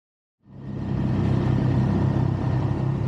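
A Triumph motorcycle with a triple-cylinder engine rides along a coast road in West Wales, its engine rising abruptly from silence into a loud, steady, droning rumble that holds without talk.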